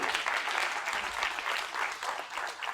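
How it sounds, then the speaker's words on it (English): Steady applause from an audience at a school opening-day keynote, a dense wash of clapping from many hands at moderate distance, continuing alone for a few seconds. "Clap for yourselves."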